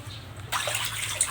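Water pouring and splashing into a concrete catfish tank during a water change, a steady broadband rush that starts abruptly partway through and continues fairly close with no talking.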